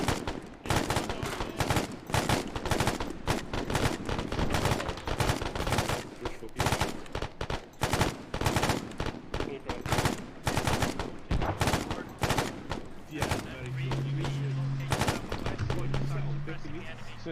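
Gunfire in the military video game ArmA, loud dense bursts of automatic and single shots in rapid irregular volleys, continuing across the passage with a brief steady tone near the end.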